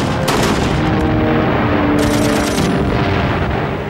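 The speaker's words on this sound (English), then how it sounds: "the dash across the sands had to be made in the face of rifle and machine gun fire" Dense rifle and machine-gun fire in a WWII beach assault, a continuous loud roar of overlapping shots and blasts with bursts of rapid crackle, no talk.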